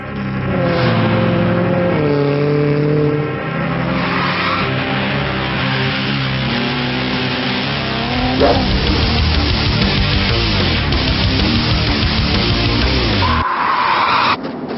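A rally car in the racing game V-Rally 2 roars through repeated engine revs, with the pitch climbing and dropping through gear changes and bursts of tyre skid on dirt, loud and continuous, with no talk.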